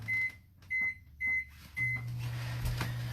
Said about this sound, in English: I'm gonna pop this in the microwave